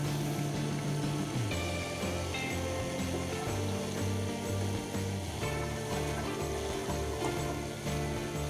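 Drain pump of a Zanussi washing machine running with little water, a steady mechanical rattling hum with a pulsing, gear-like texture that holds throughout, close and continuous with no talking.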